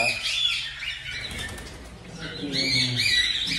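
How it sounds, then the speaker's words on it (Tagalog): Pet birds fluttering and flapping their wings inside nesting boxes, a close, busy rustle of wingbeats with faint chirps, while someone talks over it. "So ito papakita ko sa inyo yung aking mga kaibon, makikita nyo dyan."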